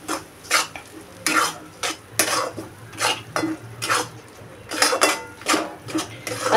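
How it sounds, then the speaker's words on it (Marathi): Masala paste for gathi shev curry stirred and sautéed in a pan, a steady run of scraping strokes against the metal with a soft sizzle underneath, close and fairly loud, with no voices. "आता हे छान परतवून घेऊया, पूर्ण मिक्स करून घेऊया."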